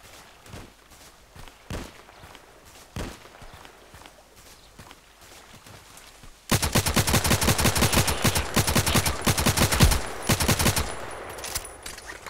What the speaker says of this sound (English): So now he's shooting at me